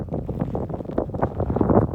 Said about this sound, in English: The quietness, it's just weird, slightly windy here.